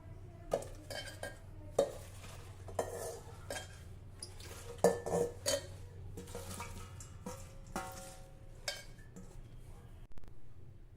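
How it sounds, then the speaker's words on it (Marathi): Washed ambadi leaves dropped into a steel pressure cooker, giving scattered metallic clinks and soft rustling thumps at irregular intervals over a low background hum, fairly quiet and close. "इथे स्टीलच्या कुकरमध्ये आता आपल्याला ही धुतलेली अंबाडीची पानं घालायची आहे"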